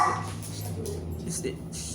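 A dog barks and yips a few times close by, short and sharp, over someone talking.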